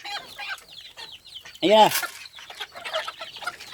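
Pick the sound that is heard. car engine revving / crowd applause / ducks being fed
ducks being fed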